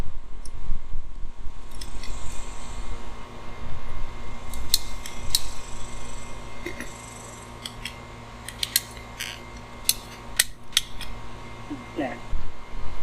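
Irrigation pipe being cut back during a sprinkler leak repair, heard as scattered small snips and clicks of a cutter over steady low outdoor hum and rumble, with light handling noises throughout.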